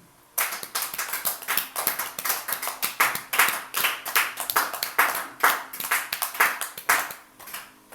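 A church congregation claps together in acclaim of the Lord at a worship service, a dense and steady run of hand claps that starts sharply and carries on loud and close for several seconds with no voices over it.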